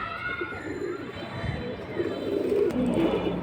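Pigeons kept for flying coo softly amid a busy pigeon farm, low murmuring calls growing more distinct toward the end over a steady background of rustle and faint activity.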